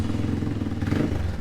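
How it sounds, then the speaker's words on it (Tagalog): A Motorstar Cafe 150 classic motorcycle, about five years old and in poor condition, idles close by with a steady low, slightly uneven chugging thrum. "dun sa mga gusto marinig yung tunog ng Motorstar Cafe 150"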